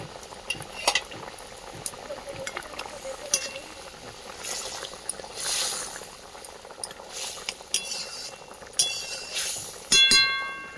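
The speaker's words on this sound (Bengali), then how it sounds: "আবারও কিছুক্ষণ ফুটতে দেব" Bengali mango and sole fish curry boiling in a pan, a soft continuous bubbling and simmer with faint clinks, close and low in level.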